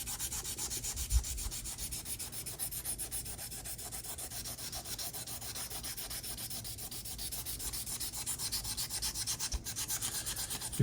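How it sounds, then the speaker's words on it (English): Wet sandpaper rubs steadily over a 3D printed model car body, a close, continuous rhythmic scraping with a brief knock near the start. "So grab our trusty sandpaper, wet it real good"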